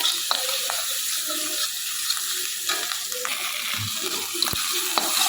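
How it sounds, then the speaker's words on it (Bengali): Chopped onion, tomato and crushed garlic fry in oil with a constant hissing sizzle, while occasional utensil knocks and scrapes sound close by. "তো ভালো করে তেল পোড়ার সাথে ভেজে নেবো পেঁয়াজগুলো"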